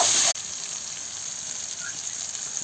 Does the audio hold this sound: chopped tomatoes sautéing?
yes